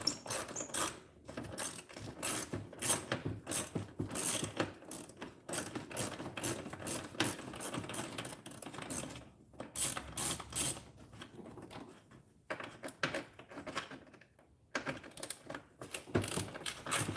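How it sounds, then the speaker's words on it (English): Rapid ratcheting clicks from a ratchet backing screws out of the rear of a damaged front bumper on a 2012 Chevy Malibu LT, close and continuous in bursts with brief pauses, no talking. "get some of these screws out of the back of this bumper"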